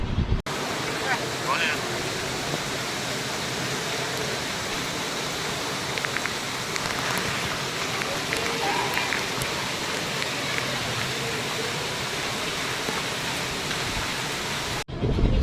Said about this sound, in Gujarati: અહીં જો કેટલો બધો વરસાદ શેરીમાં કેટલું પાણી જઈ ગયું